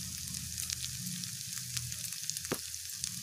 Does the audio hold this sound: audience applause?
no